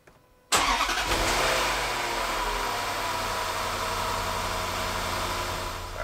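A 2013 Range Rover Sport engine cranks and catches with a loud burst after a short quiet moment, then settles into a steady, close idle that holds through to the end.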